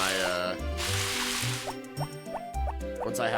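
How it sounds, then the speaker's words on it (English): Watering plants with a watering can in Harvest Moon: Back to Nature: a brief splashy pour of water over bright, melodic game music, followed by short plinking tones. "I don't really have any rhyme or reason for how I water my plants."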